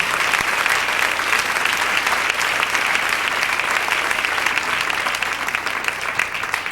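A church congregation claps steadily for the King during an evening service, a dense, even wash of many hands sustained for several seconds without pause.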